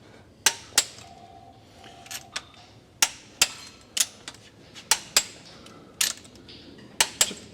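Torque wrench snapping out sharp, distinct clicks while cylinder head bolts on an Alfa Spider are re-checked, about a dozen crisp clicks in an uneven rhythm, up close and loud against a quiet workshop background.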